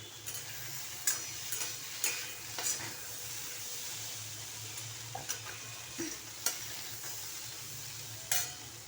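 Kidney beans (rajma) frying in a pan as a dry vegetable dish, a soft steady sizzle with occasional light clicks of a spoon stirring, fairly quiet and close, with no talking.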